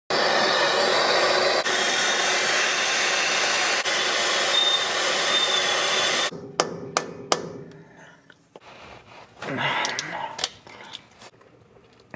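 A torch roars steadily and loudly for about six seconds while heating around a rusted fill plug on a truck, then cuts off, leaving faint scattered clicks and knocks.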